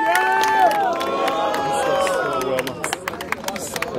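A rap battle crowd at Batalha do Coliseu roars and cheers loudly, with shouting voices and scattered claps that continue steadily, then break into choppier bursts toward the end.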